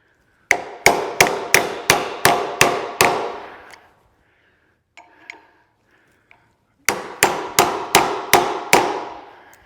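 Sharp metallic strikes on a beat-up scrap generator as a crowbar works at it, two fast bursts of about six ringing blows each, separated by a pause with a few faint clinks.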